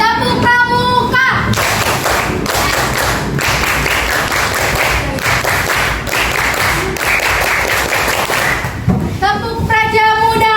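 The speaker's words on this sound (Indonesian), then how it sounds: "Tepuk pramuka." A group of children performs the Pramuka scout rhythmic clap, loud patterned handclaps running continuously for several seconds, with speaking voices before and after.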